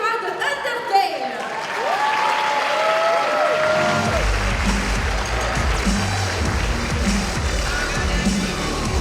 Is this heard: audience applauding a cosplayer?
yes